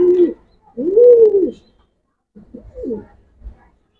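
Pigeons of Giribaz, racer and ring breeds cooing close by, several drawn-out throaty coos with short pauses, the last ones softer, no talking.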